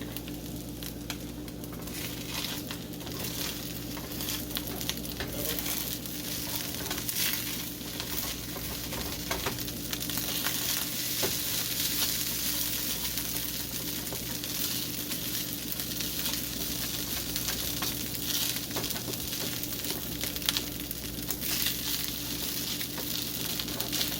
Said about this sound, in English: I'm going to stir it one more time before I throw the egg in